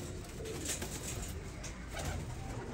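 Small pigeons being sold for breeding give steady soft cooing against a constant low background hum, with no voices over it.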